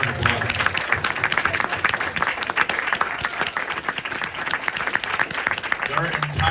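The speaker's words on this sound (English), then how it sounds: "Give a round of applause." Audience applause at a film premiere Q&A in Atlanta: dense, sustained clapping from a crowd fills the room, loud and close throughout, with voices mixed in.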